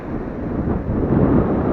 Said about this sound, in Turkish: Rüzgar çok arttı. Özellikle rüzgar.